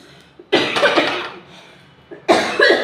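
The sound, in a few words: cough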